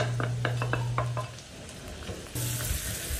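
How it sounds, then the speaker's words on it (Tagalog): Onions sauté in a pan with garlic, a close sizzle punctuated by quick clinks and scrapes of a utensil stirring, then a brief quieter stretch before the frying swells louder again, no talking. "Sauté lang natin yung ating sibuyas hanggang sa mag-translucent"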